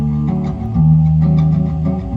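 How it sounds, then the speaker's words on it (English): A music sample pitched down an octave plays as a low, thick harmonic loop with a sustained bass-heavy tone swelling midway, steady and loud with no voices. "I took the sample and I pitched it an octave down so it sounds like this"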